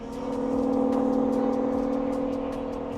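A 2007 Aston Martin DB9 with a V12 engine holds a steady, loud rev inside a tunnel, its strong harmonic drone sustained and echoing for the whole stretch.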